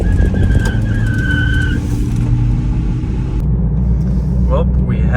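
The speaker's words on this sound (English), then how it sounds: "We have a very flat tire. So flat, I'm surprised it's still on here. You can hear it probably." A Toyota Prius rolls along on a badly flat tire, giving a steady low road rumble with a faint whine. The drone runs continuously and fairly loud throughout, shifting slightly near the end.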